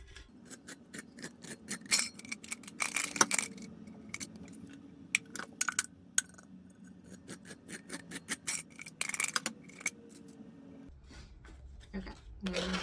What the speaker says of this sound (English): now I'm gonna sand around. Sorry for the sound.